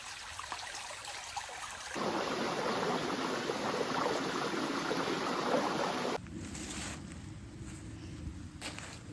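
A creek in autumn woods flows with a steady rushing babble, close and continuous, its tone shifting as the listening point changes, with no voices over it.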